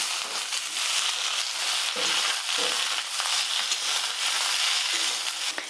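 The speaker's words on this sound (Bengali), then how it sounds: "বেশ কিছুক্ষণ আমি আলু আর বেগুনটা এইভাবে নাড়াচাড়া করে ভালো করে ভেজে নিচ্ছি" Cubes of potato and brinjal fry in hot oil in a pan and are stirred, giving a loud, steady sizzle with crackling and the rasp of stirring throughout.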